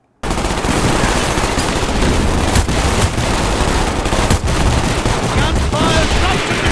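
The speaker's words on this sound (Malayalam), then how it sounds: "Gunfire right from the canister!" Dense, continuous automatic gunfire from the video game Call of Duty: Black Ops, loud and close, sustained rapid bursts after a brief silent start.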